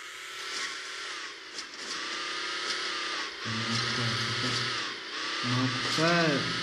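A car engine revs in the video game Hill Climb Racing 2, a steady synthetic motor drone that rises and falls as the throttle changes, with brief louder pitch sweeps and someone talking over it.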